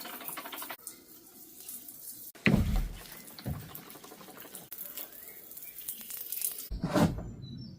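Water is sprayed and splashed over a cottage wall to wet it down before rendering, with hissing spray bursts, patters and drips in an uneven rhythm, close by.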